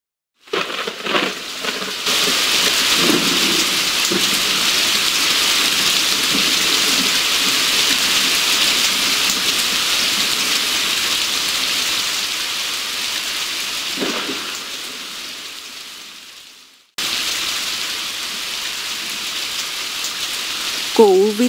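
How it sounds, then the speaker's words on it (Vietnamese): Heavy rain pours down steadily as a dramatic audiobook effect, with low thunder rumbling through the downpour; the wash stays loud and continuous, briefly drops out near the end, then resumes. "Một chốc, mưa đổ xuống và kéo dài mãi không ngớt."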